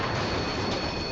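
Train wheels squealing on rails, a loud sustained metallic screech with a continuous rumbling roar beneath it, close and steady throughout.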